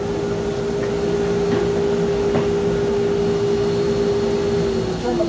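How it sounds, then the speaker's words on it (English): A vacuum unit on a banner heat welder runs with a steady whine and a broad airy roar, holding constant before the tone drops away as it winds down at the end. "Turn the vacuum off."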